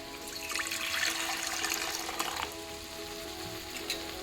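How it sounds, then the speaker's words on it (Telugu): Water poured into a pot of fish curry gives a continuous close gush and trickle that eases off toward the end, with a faint hum underneath and no voices. "అట్లాగే దీనికి సరిపడా వాటర్ కూడా యాడ్ చేసుకోవాలి"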